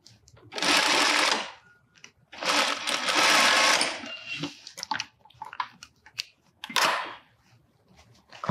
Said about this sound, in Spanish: Coso por ahí, junto al hombro, mire, con la costura del hombro.